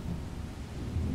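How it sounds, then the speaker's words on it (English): Deep, continuous thunder rumbles through a heavy downpour in the video game Penrose Beautiful Desolation, a steady, loud roar of storm and rain with no break. "This rain is bucketing down now."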